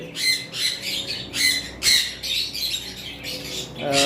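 Yellow-sided pineapple conures, a caged pair of small parrots, give a series of loud, harsh squawks in quick bursts, roughly one every half second, close by with no talking.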